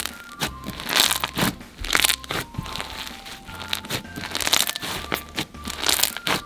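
Crunchy slime full of white foam beads squished by hand, giving dense bursts of crackling and crinkling pops in repeated squeezes, close and fairly loud, with no speech.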